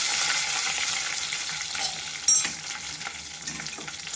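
Tempering of mustard seeds, cumin, green chilies, fresh curry leaves and garlic sizzles steadily in a hot pan, with a sharp stirring clatter midway and softer scrapes after, no talking.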